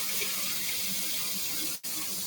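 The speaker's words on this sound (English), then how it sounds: "So I'm going to fill it with comfortably warm water." Comfortably warm tap water runs steadily into a wash basin set up for a partial bed bath, a close, even rush that briefly cuts out near the end before resuming.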